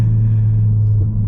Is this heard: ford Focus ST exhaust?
yes